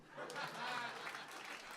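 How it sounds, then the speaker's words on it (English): A short burst of applause comes from a comedy roast show crowd. The clapping is soft and somewhat distant, with faint chatter mixed in. "Go ahead and clap."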